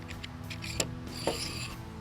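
Metal camera rig rods slide into a mounting system, making a close mechanical scrape followed by two small clicks, with a faint creak as they seat.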